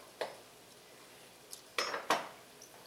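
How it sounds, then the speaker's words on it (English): A utensil stirs chicken curry in a pot, giving a few sharp scraping clinks against the metal, spaced irregularly and close by in a quiet kitchen. "let me stir this up"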